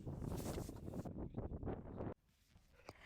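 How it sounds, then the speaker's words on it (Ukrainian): Strong wind gusts rumble against the microphone on the White Cliffs of Dover for two seconds, then drop abruptly to a quiet, faintly breezy background. "На жаль, вітряно, і ви будете чути пориви вітру"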